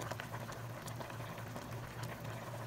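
Sinigang na bangus, a milkfish soup, boiling steadily in a pot, with a close, continuous bubbling patter and no talk.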